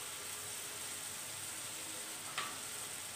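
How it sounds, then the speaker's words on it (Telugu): Onions and tomatoes frying in a pan with coriander, cumin and garam masala for chole masala curry, giving a steady, faint sizzle with one small tick near the end. "ఉల్లిపాయలు బాగా వేగిన తర్వాత అప్పుడు టమాటాలు వేసుకోవాలి."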